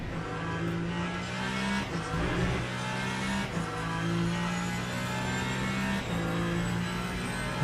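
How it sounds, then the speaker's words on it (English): A Lamborghini V10 race car in the Le Mans Ultimate racing game, a loud, steady high-pitched engine howl with brief dips at gear changes, continuous and close with no talking. "the Lambo has this breathtaking V10 sound"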